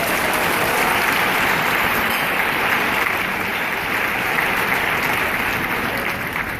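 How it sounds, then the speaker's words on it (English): Sustained applause from a large gala audience at the Human Rights Campaign event, a dense, even roar of clapping that holds steady throughout and thins slightly at the end. "Let's give HRC a round of applause."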